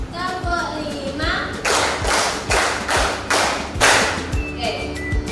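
A classroom of children claps in a counted routine, a string of loud synchronized claps in steady rhythm with thumps beneath, framed by children's chanting voices.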